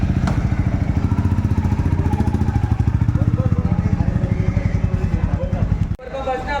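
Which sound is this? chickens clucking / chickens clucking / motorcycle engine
motorcycle engine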